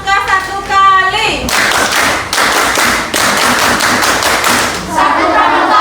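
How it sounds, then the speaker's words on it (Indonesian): A school class performs the Indonesian scout clap (tepuk pramuka) together, loud rhythmic bursts of group hand clapping between short stretches of children's chanted voices. "Tepuk pramuka satu kali."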